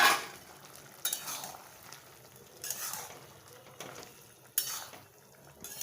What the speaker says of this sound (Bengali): এবার ভাজা মাছগুলো এর মধ্যে দিয়ে দিলাম